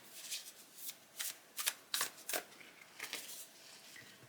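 Tarot cards being shuffled in a quiet room, a series of soft riffling bursts and flicks that come in irregular clusters, faint and close, with no talking.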